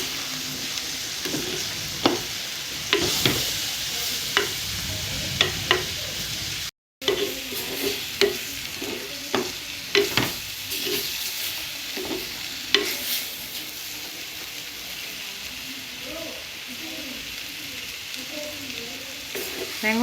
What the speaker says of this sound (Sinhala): දැන් හොඳට තෙලේ තැම්බිලා තින්නේ.